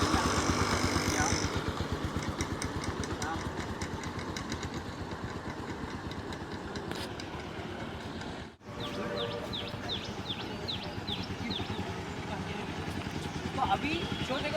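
Motorcycle engine putting along on a road at low speed in first gear, a steady close throbbing pulse with slight rises in revs, a voice speaking over it.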